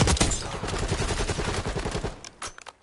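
Rapid gunfire in the video game Dark Matter, a dense string of loud shots rattling close for most of the stretch before thinning into a few scattered bursts at the end.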